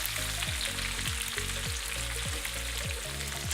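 Chopped mango and chilies cooking in a pan on low heat, a steady close sizzle with soft crackles throughout, alone with no talk.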